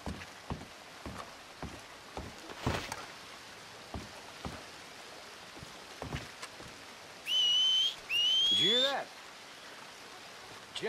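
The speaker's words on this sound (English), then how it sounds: "Whistle or something." Two sharp rising whistles from a character in the video game Red Dead Redemption 2, sounded to draw enemies out, ringing loud over a backdrop of rain pattering and scattered clicks, with a falling tail after the second.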